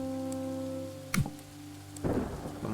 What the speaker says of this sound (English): The rain shows no signs of stopping.